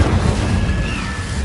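A deep booming burst rings out when the Incendio fire spell is cast in the Harry Potter Goblet of Fire video game, a dense rumbling blast that fills the short moment.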